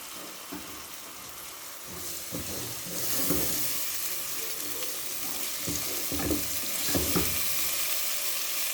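Three medium tomatoes drop into a pan of frying ginger, garlic and green chilli paste, with steady sizzling and louder hissing bursts as they hit the hot oil.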